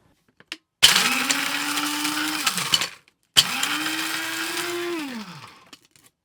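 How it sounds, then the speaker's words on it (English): A new electric grinder whirs through two loud bursts of dried homegrown Hungarian peppers being ground into paprika. Each run starts abruptly with a steady motor hum and rattle, then winds down, with a short pause between them. "what I'm going to do is put them in a grinder. We'll just fill that up with our dried peppers."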